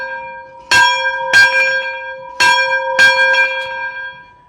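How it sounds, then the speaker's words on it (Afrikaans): A hand bell rung at a Jones Masjiene machinery stand at the Nampo 2025 farm show, sounding as four loud, clear strikes in two quick pairs with tones ringing on between them, no voices. "Dan kom lei jy die klok."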